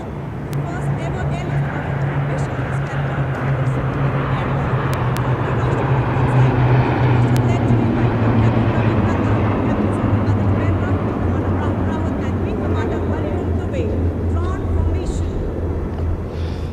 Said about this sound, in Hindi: इसमें आगे एक C-17 और पीछे 2 C-130 400 मीटर की ऊंचाई पर राजपथ के उत्तर में वाटर चैनल के ऊपर से निकल रहे